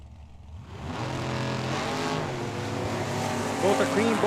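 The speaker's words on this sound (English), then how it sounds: "Mustang versus Camaro, blue versus red." A Mustang and a Camaro launch down a drag strip, engines building from quiet to a loud, sustained roar with a rising whine near the end, while an announcer talks over them.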